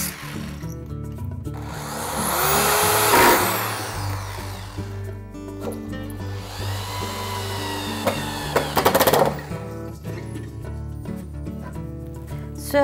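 A screw gun drives screws into a wooden chicken coop frame in two loud bursts a few seconds apart, over a low steady hum, close by.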